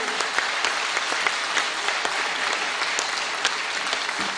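Sustained applause from a seated audience at a postage stamp release ceremony honoring Dattopant Thengadi, dense and even with sharper individual claps popping through, continuous for the whole stretch.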